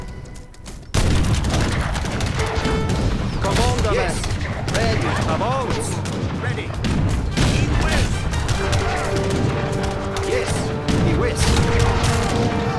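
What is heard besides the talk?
cannons firing in a video game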